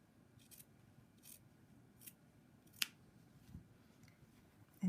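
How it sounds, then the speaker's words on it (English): Scissors snipping across a fabric join in a quiet room, a few sparse, soft cuts with one sharper snip standing out, no voices. "you're going to cut it right here"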